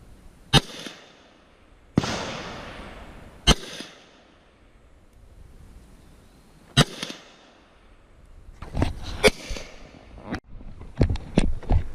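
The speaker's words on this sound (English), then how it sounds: "Now let it fire as fast as you could pull that trigger." Gunfire cracks out at an outdoor shooting range at deer camp, sharp loud reports spaced apart at first, then a quicker cluster of shots near the end, each followed by a short echoing tail.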